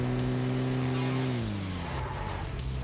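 A vehicle engine in the BGMI battle royale game whines with a steady tone that then drops in pitch as the vehicle slows, accompanied by a skidding, gritty tire rush.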